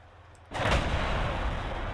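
A Demolisher rocket fires in a Warhammer 40K strategy game: an abrupt loud blast bursts in after a quiet start, then a roaring sustained rumble and hiss trails on.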